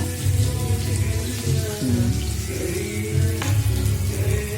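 Onion fries in hot oil in a home kitchen, a steady loud sizzle with a low hum and occasional clatter of utensils, close to the pan and without talk.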